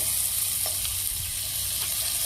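Ripe tomatoes with ginger-garlic paste sautéing in a pan for pepper chicken gravy, giving a steady, loud, close sizzle and frying hiss throughout, with faint stirring scrapes and no talk.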